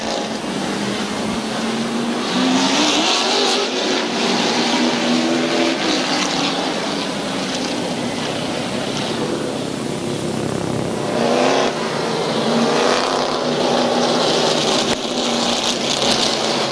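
Stock cars racing at Midvale Speedway, four cars running laps with engines droning and rising and falling as they pass, a loud continuous roar throughout.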